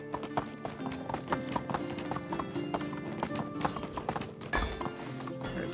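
Horse hooves clip-clopping at a steady trot in Medieval Dynasty, close and continuous with occasional snorts, under faint game ambience.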